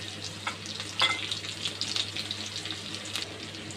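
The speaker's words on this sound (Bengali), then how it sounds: "এই রসুন থেতা দিয়ে দিতেছি।" Crushed garlic drops into hot mustard oil in a pan, giving a faint, steady crackling sizzle with small pops and a brief louder burst near the start.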